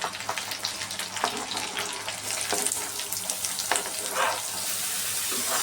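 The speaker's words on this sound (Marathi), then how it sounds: "लसूण परतल्यानंतर त्यात कांदा व मिरची घालावी." Onion, green chilli and garlic sizzle and fry in hot oil for a methi (fenugreek) sabzi in a home kitchen, a steady close crackle with occasional stirring scrapes and no talking.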